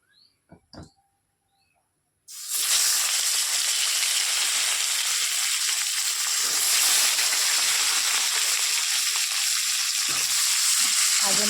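After a few quiet clicks, pieces of fish drop into hot oil and set off a sudden loud, dense sizzle. The hiss stays strong and continuous to the end.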